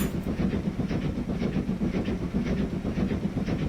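A steam train from 1877 in the Transport Fever 2 video game rolls along at about 60 miles an hour, with steady loud rhythmic wheel clatter and chuffing throughout.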